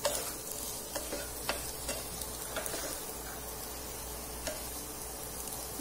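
Potatoes with salt being stirred in a pan for jeera aloo, a soft continuous sizzle of frying under light scraping and clicking stirring strokes, close and quiet, no speech.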